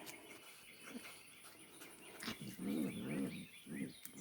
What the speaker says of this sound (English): Look, well, there's some growling right there.